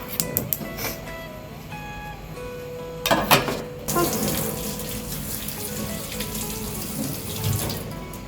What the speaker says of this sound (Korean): 그래서 오이하고 소금을 씻어야 돼요. 씻어서 물기를 제거해야 되거든요.